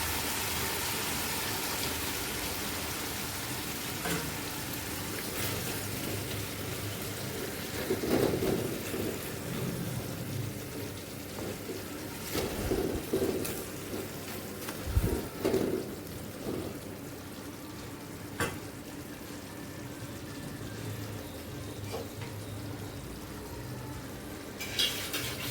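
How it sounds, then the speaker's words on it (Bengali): Pointed gourd (potol) simmering covered on low heat for doi potol, a steady soft hiss and bubbling crackle running throughout, with a few louder pops and lid or spoon knocks along the way. "এখন লো হিটে এটা বসিয়ে রাখবো ঢাকা দিয়ে পটলটা সিদ্ধ হওয়ার জন্য।"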